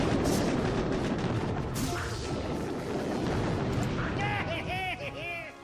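Heavy booming cannon fire in a video game, a continuous dense roar of blasts and explosions with whistling projectile sounds near the end, loud throughout as someone talks over it.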